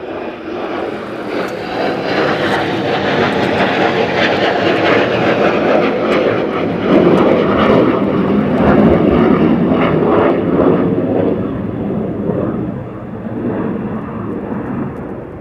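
F-15 Strike Eagle jet passing over RAF Lakenheath near Thetford Forest, a loud broad roar that swells to a peak mid-pass and then slowly fades, reverberating, with no voices.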